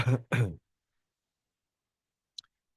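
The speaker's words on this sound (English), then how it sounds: "sorry, I gave you my cough" Two quick, close coughs in succession, then near silence broken only by a tiny click.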